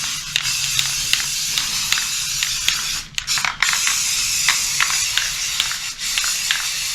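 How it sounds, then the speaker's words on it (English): Clean metal primer is spray painted onto a cleaned metal van floor, producing a steady, close, loud hiss that pauses briefly for a moment before continuing. "in the next step we're going to spray paint"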